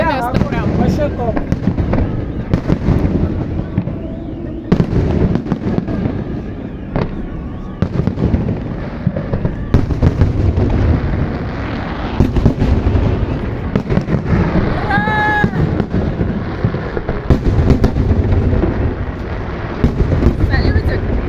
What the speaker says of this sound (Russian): Салютик.